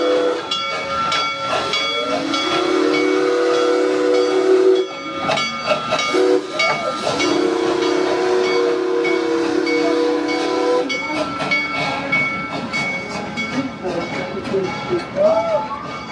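A steam-style tour train at Busch Gardens pulls in with long sustained whistle blasts over hissing steam and rumbling railcars, loud and near, with people talking in the background.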